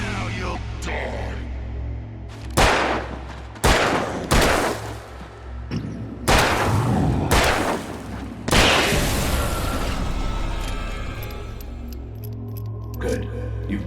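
Loud gunshots in Alan Wake ring out one after another at uneven intervals, each a booming crack that decays into a low rumble, over a steady dark background drone.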